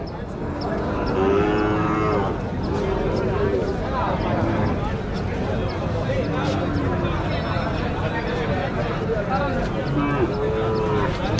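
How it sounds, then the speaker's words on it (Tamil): Madrapalli calves on a farm moo loudly several times in long, drawn-out calls, close by, while a person talks over them. "ரெண்டு கண்ணுக்குட்டி அந்த பக்கம் ஒரு ரெண்டு கண்ணுக்குட்டி இருக்குது"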